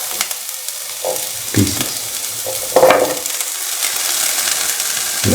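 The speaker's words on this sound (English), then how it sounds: "Put in the shallots and the onion" Shallots and onion hitting a hot pan in a capsicum and cottage cheese stew, a steady broadband sizzle running throughout with stirring scrapes and a few louder bursts, while a voice speaks briefly underneath.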